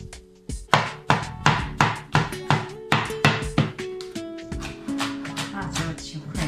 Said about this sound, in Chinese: 豆角切小段